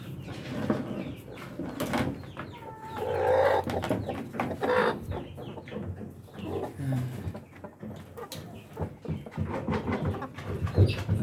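Rhode Island Red laying hens clucking and squawking in a busy, cluttered barn breeder cage, with wire rattling and scuffling throughout and occasional louder calls near the end.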